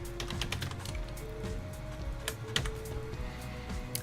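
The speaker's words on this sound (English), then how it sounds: "we're going to type in training only." Fingers type on a computer keyboard, a close, uneven patter of light key clicks with a faint steady tone underneath and no speech.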